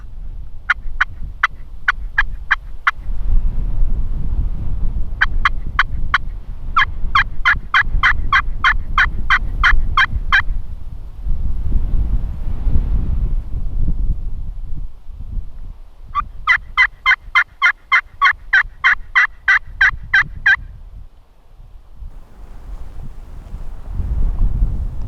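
Wild turkeys gobbling loudly in repeated rapid bursts during a gobbler fight on public land, several volleys of gobbles separated by gusts of rumbling wind noise against the microphone.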